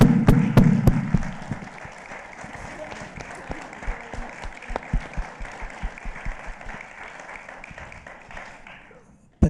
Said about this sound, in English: I'd like her to get a round of applause